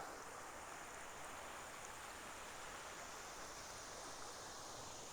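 Small creek beside an old mill flows with a steady, even hiss of running water, constant and moderately faint throughout with no voices.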